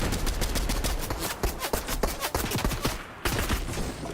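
Intense, rapid gunfire fills the scene in a relentless stream of loud overlapping shots and bursts, with a brief lull near the end before the shooting resumes.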